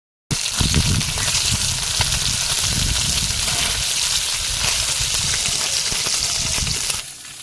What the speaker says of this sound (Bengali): একটু তেল দিয়ে দেব যে মাছগুলো ভেজে নেব মাছগুলো এবার দেবো একটা একটা করে